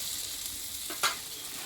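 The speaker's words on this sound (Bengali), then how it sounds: "ধনের পাতাটা দিয়ে মশলার সঙ্গে আমি একটু নাড়াচাড়া করে নিয়েছি" Spices frying with fresh coriander leaves in a pan for a tilapia fish curry, a soft continuous sizzle with one brief scrape of a stir, close but fairly quiet.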